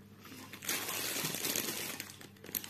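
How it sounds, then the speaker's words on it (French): Packaging crinkles and rustles during an unboxing of paint-by-number and cross-stitch kits, a sustained close crumpling of plastic or paper that swells for a couple of seconds and then eases, with no speech. "Vous entendez le froissement là"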